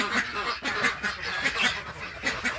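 Yi Liang ducks in a pen during egg collecting give a rapid series of loud, close nasal quacks and honks, several birds calling over one another in an uneven rhythm.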